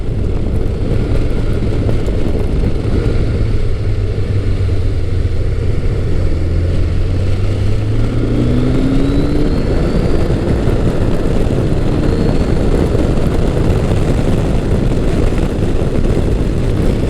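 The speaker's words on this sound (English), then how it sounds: "It's got that jet engine sound to it, that little bit of Kawasaki whine." A steady, loud engine roar with a rising and falling jet-like whine, heard up close as a Kawasaki Concours 1000 (GTR1000) sport touring motorcycle cruises at about 75 mph in top gear.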